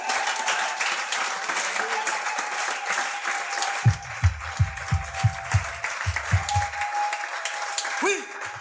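A church congregation applauds and praises together, a continuous wash of clapping with a run of deep rhythmic thumps partway through and voices rising over it.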